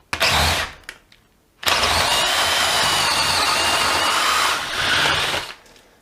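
A DeWalt Atomic DCD709 combi drill whirs in short bursts, a brief spin, a pause, then a long sustained run in reverse that dips and rises before stopping, loud and close.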